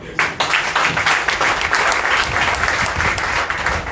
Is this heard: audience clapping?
yes